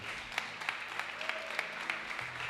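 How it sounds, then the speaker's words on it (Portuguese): A church class audience claps after a prayer, light scattered applause with distinct individual claps, fairly quiet and brief, over a faint low hum. "Dê um aplauso bem forte aí"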